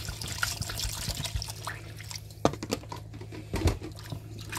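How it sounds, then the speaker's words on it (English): Clean filtered water poured into a bowl holding vegetables being prepared for kimchi, a soft steady trickle with a few louder splashes and drips toward the end, up close with no talk. "cover them with clean filtered water."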